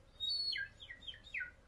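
A few quick bird chirps, a long bright whistle followed by three short descending tweets, fairly faint and alone; likely a human voice imitating a bird.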